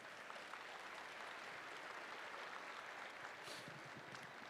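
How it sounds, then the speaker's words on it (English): An audience at an Indigenous education event claps for standing councillors and community leaders, even sustained applause heard from within the room, fairly soft overall. "Let's give them a round of applause,"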